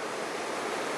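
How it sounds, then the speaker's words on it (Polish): Rushing water at El Chiflon waterfall in Chiapas roars as a dense, constant broadband hiss, loud and close, with no breaks or other sounds standing out. "Idziemy zobaczyć wodospad El Chiflon."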